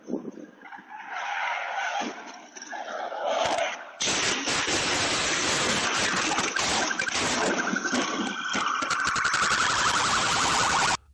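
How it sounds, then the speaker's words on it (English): Emergency vehicle sirens rising through a neighborhood, loud and continuous alongside screeching tires and car noise, swelling steadily over the whole stretch. "the hum of distant sirens began to rise, echoing through the neighborhood"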